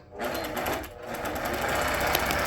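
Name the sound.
APQS longarm quilting machine stitching a pantograph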